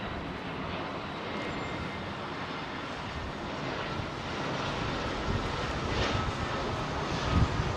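A jet aircraft approaches Heathrow Airport, a steady broad engine roar that grows gradually louder toward the end, heard from the ground at moderate distance with light wind and no talking.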